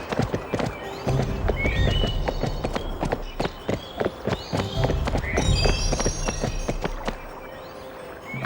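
Rapid hoofbeats of a horse galloping in the video game Barbie Horse Adventures, a steady clip-clop rhythm close up with occasional whinnies and bright chime-like game effects layered over it.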